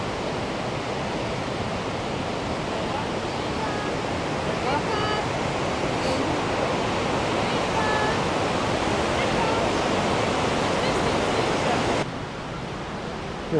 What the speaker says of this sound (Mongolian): Ямар гоё хүрхрээ вэ?